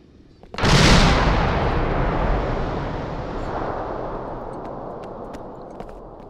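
Heavy gunfire or a large-caliber blast in a military combat video game booms suddenly, loud and close, then rolls into a long decaying rumble that fades over several seconds, with a few faint distant pops afterward.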